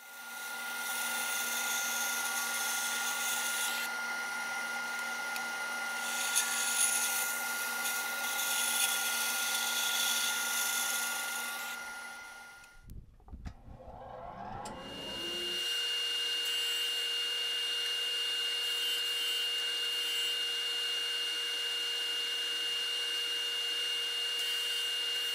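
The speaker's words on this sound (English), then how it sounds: "Now I'm going to resaw each block roughly into thirds" A power saw resawing small wooden blocks into thirds for carving, a loud steady whine that drops out briefly mid-way as the cut finishes and then starts again at a new pitch.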